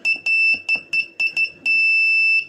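A homemade telegraph sounder running at about 3.7 volts gives a clear, high electronic buzz, keyed in a quick run of short beeps followed by one long tone, close and alone.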